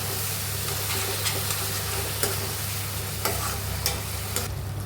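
Tomato and green chili paste is stirred into masala frying in a pan for dum aloo, with a steady sizzle under repeated scraping strokes of a spoon at a regular rhythm, close and clear.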